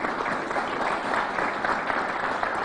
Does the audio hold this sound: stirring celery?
no